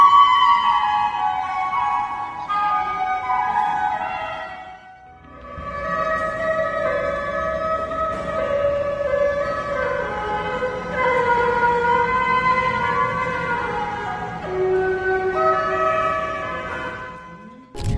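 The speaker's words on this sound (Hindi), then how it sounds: "महबूब ने बांसुरी पर देशभक्ति की धुन छेड़ दी" A bamboo flute plays a slow, sustained patriotic melody at Raipur airport, notes gliding and held with a brief pause near five seconds, clear and fairly loud with no speech.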